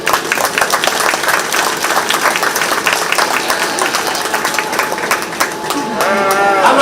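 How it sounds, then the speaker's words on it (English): Crowd applause at a county fair 4-H and FFA sheep show, sustained clapping throughout with a sheep bleating over it near the end. "I think all of these kids deserve a huge round of applause"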